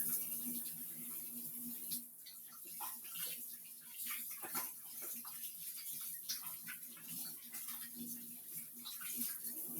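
A shower tap runs steadily with a soft, continuous hiss of flowing water, fairly quiet, with faint clinks and movement around it.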